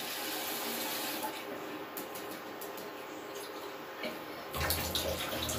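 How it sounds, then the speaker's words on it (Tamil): Water runs steadily from a tap in a home kitchen while drinking water is collected for lemon juice, a continuous close splashing stream that swells slightly near the end. "பாருங்க தண்ணி நான் எடுத்துக்கிட்டேன்."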